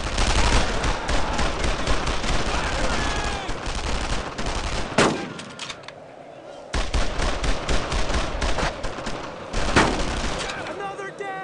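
Sustained automatic rifle and machine-gun fire from a World War II firefight in Brothers in Arms: Road to Hill 30, dense rattling bursts running almost continuously with a brief lull midway, loud and close.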